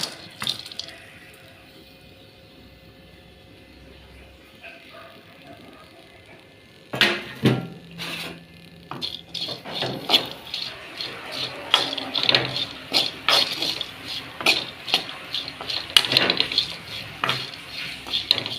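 Bitter gourd sautéing in oil in a pan: a quiet stretch, then from about seven seconds repeated clinks and scrapes of a utensil stirring against the metal pan, close and irregular, with a soft sizzle underneath.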